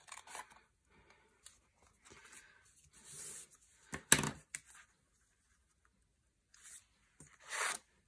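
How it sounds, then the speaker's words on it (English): Scissors trim a plastic window sheet in a quiet crafting setting, giving a few short, soft snips and rustles separated by silence. "I'm just going to bring in my scissors and give it a quick little trim"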